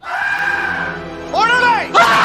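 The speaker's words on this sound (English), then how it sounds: "this scream just always cracks me up" A man's scream from an episode of The X-Files, a long strained wavering cry that rises into a sharp arched shriek and then a second loud burst near the end, heard alone without talk.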